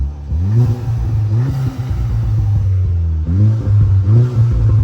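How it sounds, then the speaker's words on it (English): Close up, a tuned 330 hp VW Polo GTI revs in two strong throttle blips, the engine note climbing and dropping with intake whoosh and a brief release hiss as the throttle closes, no voices over it. "And listen to the air intake as well as the blow-off valve."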